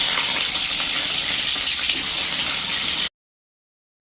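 Guri kochu taro fries in mustard oil, an even, dense sizzle that holds steady and loud for about three seconds, then stops suddenly.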